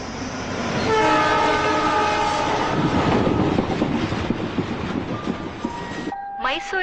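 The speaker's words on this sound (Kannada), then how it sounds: "ಮೈಸೂರಿನಿಂದ ಬರುತ್ತಿರುವ ಪ್ಯಾಸೆಂಜರ್ ಟ್ರೈನ್ ಇನ್ನೇನು ಕೆಲವೇ ನಿಮಿಷಗಳಲ್ಲಿ ಪ್ಲಾಟ್ಫಾರ್ಮ್ ನಂಬರ್ 6ಕ್ಕೆ ಬರಲಿದೆ." A passenger train from Mysore arrives at a station platform, its horn sounding loudly at the start over a heavy rumble and clatter of wagons that fades toward the end; no one speaks.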